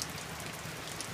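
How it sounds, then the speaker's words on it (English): Heavy wind-driven rain pours steadily during a flood in Costa Mesa, a dense, even hiss of drops hitting surfaces close by, with no voices and no let-up across the moment. "And the wind is just like driving the rain."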